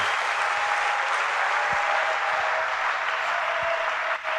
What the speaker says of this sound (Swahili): Tumchapie Mungu makofi.